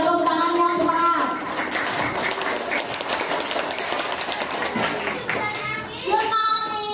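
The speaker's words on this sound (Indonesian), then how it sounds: "Yuk, tepuk tangan yang semangat." Schoolchildren at a Maulid Nabi event at an elementary school clap their hands together in a dense, enthusiastic burst that swells and fades over several seconds, with voices and chatter mixed in.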